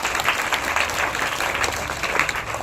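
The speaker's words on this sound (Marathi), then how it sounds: "त्यांच्यासाठी एकदा जोरदार टाळ्या तुम्ही वाजवाव्यात" An audience at a school event gives students a loud, dense round of hand clapping that carries on evenly throughout, close and without voices.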